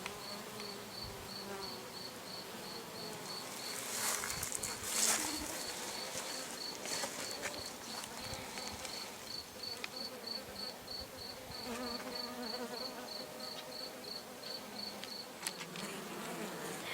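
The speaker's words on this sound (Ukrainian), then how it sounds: "І це все тільки у стінці однієї з колод, в якій живе рій бджіл." A honey bee colony living inside a hollow log hive hums with a dense, continuous buzz. A sharper insect whine and a few faint clicks and chirps rise over it, with no speech.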